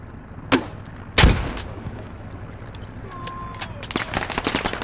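Loud gunfire and explosive grenade-launcher shots in the video game Squad, set around a yellow house in Yehorivka during a 40-versus-40 match: two sharp nearby blasts early on, then a burst of rapid crackling shots toward the end.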